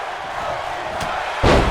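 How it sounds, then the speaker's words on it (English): Arena crowd noise from the WWE 2K wrestling video game, a steady roar through a near-fall sequence that surges into a louder burst with a sharp slam or impact near the end. "This crowd is way into this."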